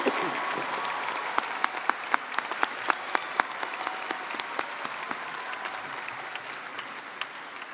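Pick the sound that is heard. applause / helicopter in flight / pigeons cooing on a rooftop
applause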